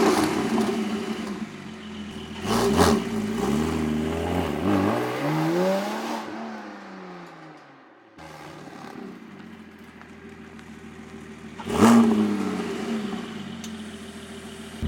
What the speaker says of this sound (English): We're gonna get some exhaust clip noises here and let you guys hear this thing.